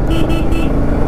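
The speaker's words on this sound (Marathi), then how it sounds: "हॉर्न देऊन पुढे जाऊया" A motorcycle horn gives a few quick, loud honks over a steady engine drone while riding a narrow, zigzagging mountain road between Panchgani and Mahabaleshwar.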